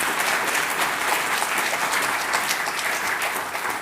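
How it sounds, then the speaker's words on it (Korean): A large gathering at a Hoon Dok Hae session breaks into loud, sustained applause, a dense, continuous wash of many hands clapping at once that holds steady throughout. "우리도 박수 한번 칩시다."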